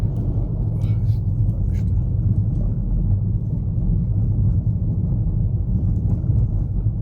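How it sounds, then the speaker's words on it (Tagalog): Cars roll along a snow-covered road in cold winter conditions, a steady low rumble of traffic with wind buffeting the microphone throughout. "Ang daming sasakyan."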